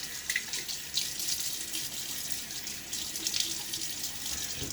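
Cool, hard tap water runs steadily into a sink close by with irregular splashes as someone wets their face before a shave with a Gillette Tech safety razor; no talking.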